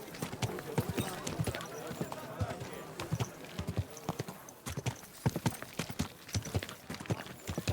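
Horse hooves clip-clop steadily over ground in the medieval world of Kingdom Come: Deliverance II, a brisk repeating rhythm of close, sharp impacts with occasional voices talking over it.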